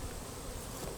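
Honey bees droning steadily at an open hive during a honey harvest, a dense, continuous buzz filling the whole moment without breaks or voices.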